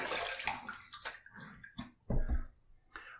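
Water running and splashing as a stainless steel safety razor with a straight bar base plate is rinsed under a tap, brief and close, with gurgling and a louder gush near the end.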